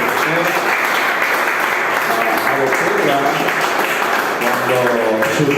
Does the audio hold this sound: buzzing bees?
no